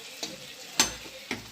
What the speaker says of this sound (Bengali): এইভাবে খোসা ভাজা বানালে